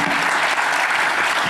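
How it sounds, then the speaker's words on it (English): An audience at a community event gives loud, dense applause for two panelists, a brief continuous burst of clapping. "Big round of applause for Mace and Rich."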